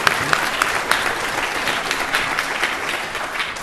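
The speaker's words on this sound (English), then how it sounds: "Applause, please." An audience at a business technology conference claps together in a dense, steady round of applause that carries evenly through the whole stretch.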